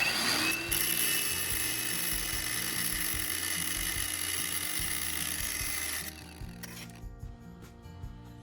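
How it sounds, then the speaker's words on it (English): An angle grinder with a metal cutting disc cuts off a screw head, giving a loud sustained high whine and grinding. It cuts out after about six seconds, leaving faint clatter. "use an angle grinder fitted with a metal cutting disc to remove the screw head"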